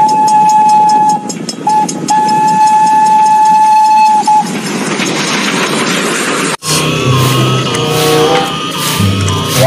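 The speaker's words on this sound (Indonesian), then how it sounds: "ini ada kereta api Thomas." A loud electronic toy steam train whistle toots in steady held notes with brief breaks, followed by chugging and rattling noises, close and unbroken by talk.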